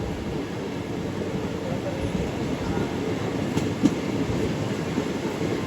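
A MEMU passenger train rolls through a curved approach to a station, giving a steady rumbling drone with faint clatter and a couple of sharp wheel clicks or squeals near the middle.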